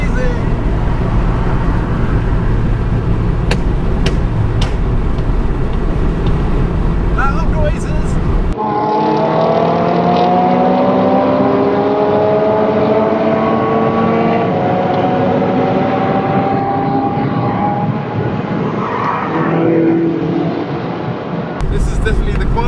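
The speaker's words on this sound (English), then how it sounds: "These cars sound amazing." A convoy of Japanese performance cars, including a Mazda RX-8, drives past with loud, continuous engine roar and rising revs over steady road noise, while people talk throughout.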